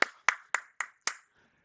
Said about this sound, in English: I don't know if you guys could see me clapping